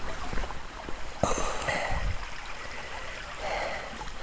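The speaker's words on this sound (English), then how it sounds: "This is the bubbling brook." A brook bubbles and trickles steadily close by, with a brief knock or splash partway through.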